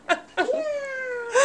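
A toddler's voice imitates a cat, with two short vocal bursts followed by a long, drawn-out, rising-falling meow and a brief final squeal, loud and close.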